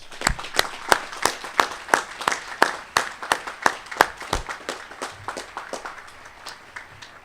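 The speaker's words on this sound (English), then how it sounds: "So let's give them a round of applause." Rhythmic, evenly spaced claps ring out in unison at a graduation commencement ceremony, loud and sharp at first, then loosening into scattered applause as the beat fades.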